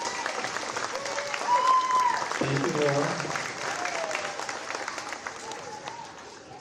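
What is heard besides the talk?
audience clapping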